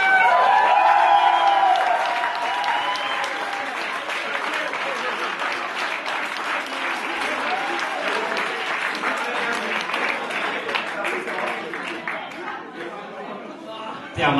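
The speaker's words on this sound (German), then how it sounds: "Einen großen Applaus auch für die wahre Schnaßlegende" An audience at a playback show bursts into applause with cheers and whoops, loud sustained clapping from a crowd that gradually fades out, with voices calling out at the start.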